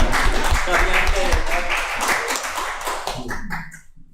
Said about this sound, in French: Je pense qu'on peut tous applaudir Enoch ce matin